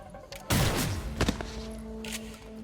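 Gunshots in the tactical game XCOM Chimera Squad: a loud close burst with a brief second report, fading into a soft tonal hum.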